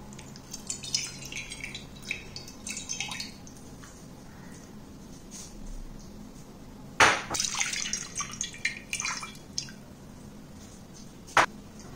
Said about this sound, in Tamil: நம்ம இதில் முதல்ல புளி தண்ணியை கரைச்சிப்போம்.